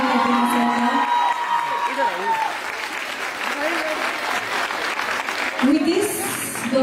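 Audience applause welcoming Sanjeev sir at the AWPL Queens Celebrations 2022 event, steady and full across the whole stretch with some cheering, under a voice talking over it.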